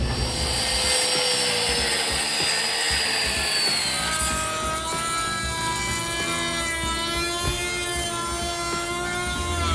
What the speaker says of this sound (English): I got a 2x6, measured it down the middle, I'm gonna cut it in half